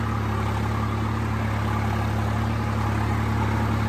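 A tractor engine works in a field being puddled for paddy, a loud, steady low drone with an even throb throughout and no voices.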